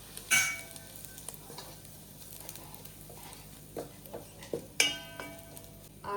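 Crab masala ground coarse with grated coconut being stirred in a frying pan, soft sizzling under scattered scraping and clinking of the spoon against the pan, with a few sharper knocks.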